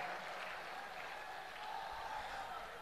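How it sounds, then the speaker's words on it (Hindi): An audience at a public gathering claps hard on cue, a dense, steady wash of applause that holds evenly throughout at a fairly faint, distant level. "एक बार पुनः जोरदार ताली बजाइए मेरे भाई के लिए"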